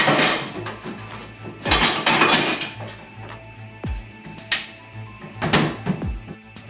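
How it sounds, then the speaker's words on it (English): Pots and pans knocked over by accident, giving several loud metallic clangs and rattles at uneven intervals, close by, with rumbling thuds between. "he accidentally hit the pots and pans."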